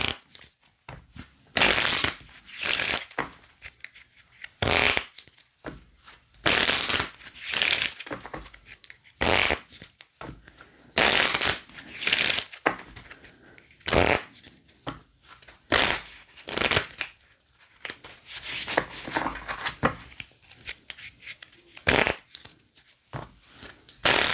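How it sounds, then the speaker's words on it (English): A discard pile of playing cards from a Lord of the Rings adventure board game is shuffled in repeated riffling bursts separated by short pauses, close and fairly loud, with no talk. "I need to reshuffle the discard pile because I've ran out of cards"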